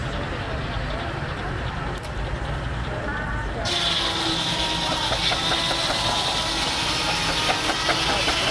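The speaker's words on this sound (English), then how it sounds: "those traction engines provided a power source for the farm" A steam traction engine runs at a farm show, a steady rumbling chug with hiss, loud and continuous, with a brighter hissing steam layer joining partway through; a voice talks over it.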